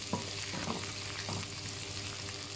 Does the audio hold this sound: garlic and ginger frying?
yes